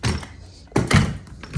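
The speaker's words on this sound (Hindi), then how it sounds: "ये दरवाज़ा बंद कर दूँ अपना" A house door being shut at home, giving a couple of dull thunks with a rustle between them, close by and fairly loud, with no talk over it.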